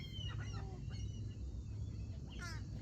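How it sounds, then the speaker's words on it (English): Seagulls call outdoors in short, faint honking cries, scattered and distant over a low rumble of wind. "So I came out here with my seagull friends."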